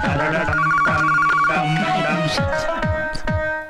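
A telephone rings loudly with a repeating electronic ringtone that fills the room in a Marathi movie scene, steady throughout with a little background speech.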